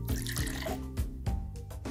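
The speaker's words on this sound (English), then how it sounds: "Let's try changing how much water it gets." Water is poured onto a sprouting plant in a Sesame Street video game, a bright running trickle that splashes in a few short bursts alongside cheerful game music.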